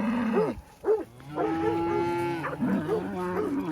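Several cows moo in close succession while being worked by dogs, long drawn-out lowing calls overlapping one another, fairly near and loud, with no talking.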